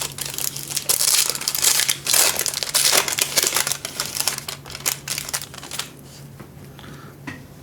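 A paper package of Magic: The Gathering cards is torn open and crumpled, giving loud, close, continuous crinkling and ripping for several seconds, then fading to softer rustles with no talk.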